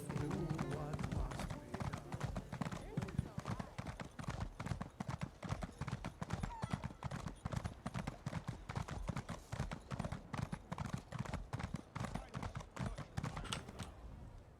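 Rapid, rhythmic hoofbeats of a galloping horse in a video game, steady and continuous throughout, with a voice speaking over them.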